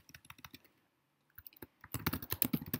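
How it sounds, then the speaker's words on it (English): Keyboard typing at a computer, a name being entered into a search box, with a run of light clicks, a pause, then a fast, louder burst of keystrokes close by. "type in your name"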